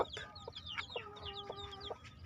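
A brooding hen that has hatched chicks clucks softly and faintly, giving several short repeated clucks with a few drawn-out tones mixed in against quiet farmyard background noise.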